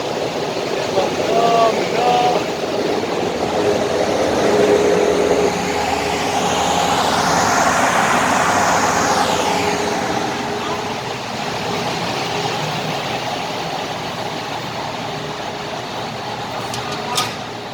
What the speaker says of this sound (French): les grands moteurs sont démarrés